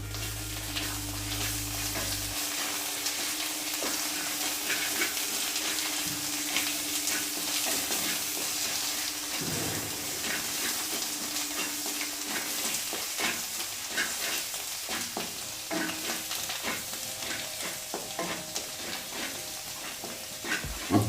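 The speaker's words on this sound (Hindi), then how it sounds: "अब बिना पानी डाले इसे पहले 5 मिनट चलाना है, मीडियम लो फ्लेम पे।" Methi chole masala fries in a pan on a medium-low flame with no water added, giving a steady close sizzle broken by the scrape of a spoon stirring it over about twenty seconds.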